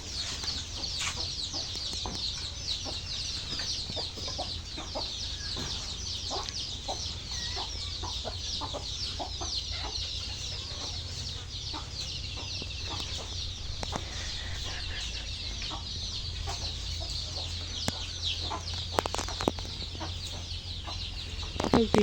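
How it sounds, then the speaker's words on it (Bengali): Eight-day-old chickens just out of brooding cluck and peep steadily in a farm shed, a dense, continuous chorus of many birds close by, with no talk. "এদিকে হচ্ছে বড় পাখিগুলা, আর ব্রুডিং কমপ্লিট হয়েছে, 8 দিন হইল বয়স পাখিগুলোর।"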